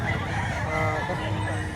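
A two-year-old Golden Boy bloodline gamefowl rooster crows briefly and loudly up close at a market in Lipa, Batangas, with voices in the background.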